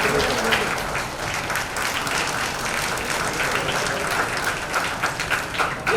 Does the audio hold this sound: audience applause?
yes